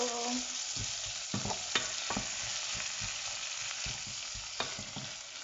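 Tomatoes tumble into a hot frying pan for an omena dish and get stirred, giving a steady close sizzle broken by several scraping, clacking stir strokes, with no talking.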